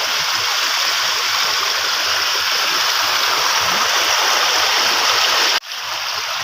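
Floodwater after heavy rain rushes down a rocky stream channel in a loud, steady roar that drops briefly near the end before resuming.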